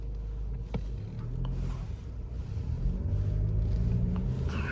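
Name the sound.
Mercedes-Benz diesel car engine exhaust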